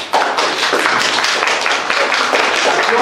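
An audience at an exhibition opening applauds actors from the Tomsk Youth Theatre, a dense, loud and continuous patter of many hands clapping close by.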